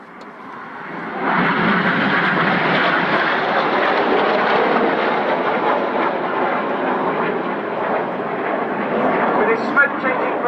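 Loud, sustained jet roar from Red Arrows Hawk jets flying the Vixen break at an air show, swelling in after a second and holding as a broad, steady rumble for the rest of the stretch.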